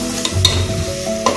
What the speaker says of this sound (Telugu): అల్లం పచ్చి వాసన పోయే వరకు ఫ్రై చేసుకోవాలి.